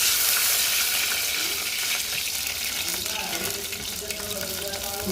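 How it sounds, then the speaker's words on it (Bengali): Close, continuous sizzling as water meets frying onions, with a loud crackling hiss that settles into a steady bubbling fry. "পেঁয়াজটা ভাজা হয়ে গেছে এখন একটু পানি দিয়ে দিবেন মধ্যে"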